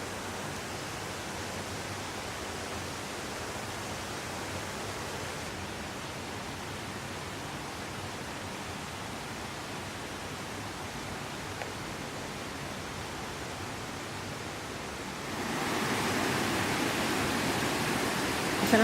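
Steady broadband rush of a waterfall and river in Clifton Gorge, Ohio, continuous and close throughout, swelling louder for the final few seconds.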